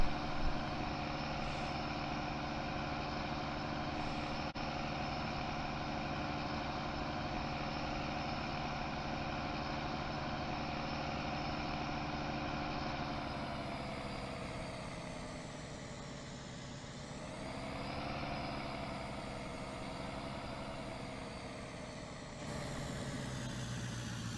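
A Massey Ferguson 1155 working at field RPM alongside an Allis Chalmers 8070 and a John Deere 730 in PTO mode, a steady heavy tractor engine drone that holds constant for a long stretch, shifting slightly in pitch toward the end.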